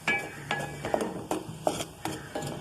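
A spoon stirs maash ki dal (urad lentils) in a pot, making steady, evenly spaced scraping strokes roughly twice a second, close and moderately loud, with a faint sizzle underneath and no talking.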